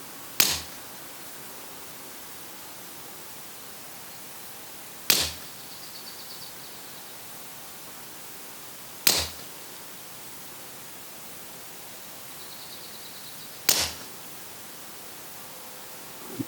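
Four suppressed shots from a Huben K1 .25 caliber air pistol, each a sharp muffled crack spaced several seconds apart over a faint hiss, with a quiet clatter after some shots.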